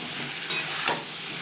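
Potatoes with salt and turmeric fry in a pan under a steady soft sizzle, broken by two quick scraping stir strokes close together.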